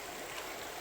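Steady broadband wash of stream water flowing near a lake campground by Warm Lake, continuous and even with no pauses, heard alone without voices.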